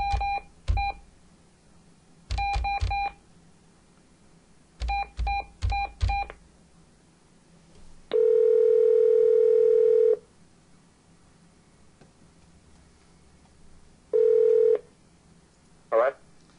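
Several quick bursts of touch-tone telephone dialing beeps, followed by two long steady dial-tone-like buzzes and a short warble near the end, with faint background voices between.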